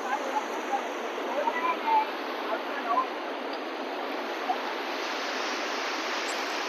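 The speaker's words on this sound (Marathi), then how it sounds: "पाण्याचा फ्लो बघा" River water flowing near Ramling island, a steady broadband rushing wash, constant and moderately loud, with a few faint voices and small splashes over it.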